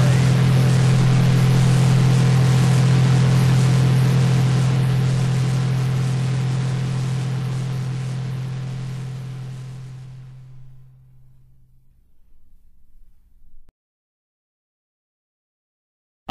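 Electronic tones from tuning circuits: a loud, steady low hum with layered harmonics over a wash of hiss that fades out, leaving a faint buzz before cutting to silence.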